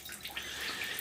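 Water still trickling inside a leaking home furnace humidifier, a brief, faint, continuous running-water hiss with small splashy flickers, heard up close and alone.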